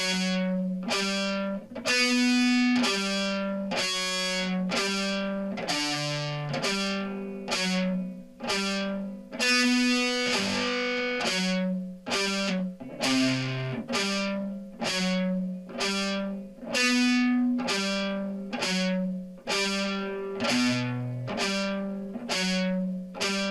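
Palm-muted, heavily distorted electric guitar plays a riff slowly, a steady pulse of chugged notes and ringing chords repeating in a tight, even rhythm, loud and alone.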